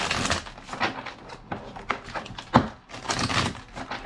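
A deck of tarot cards being shuffled by hand, with repeated papery riffles and soft taps in an uneven rhythm, close and moderately loud with no talking.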